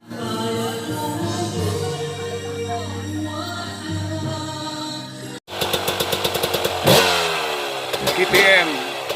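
KTM 300cc motorcycle revs at a mountain resort area in the Philippines, an engine droning then rising into rapid repeated throttle blips up close, with talk and background noise.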